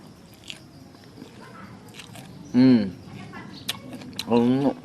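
Someone bites and crunches raw herb leaves eaten with salad dressing. The chewing is close and crisp, and someone speaks briefly between bites.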